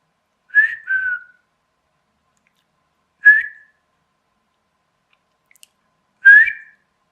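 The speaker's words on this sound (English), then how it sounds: "I wonder if I can whistle." A person whistles three short, clear tones spaced a few seconds apart, the first a quick two-note phrase, each bright and close with silence between.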